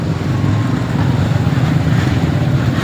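A motorcycle engine runs steadily on a rough, damaged rural road, a low continuous drone with road rumble and no talking.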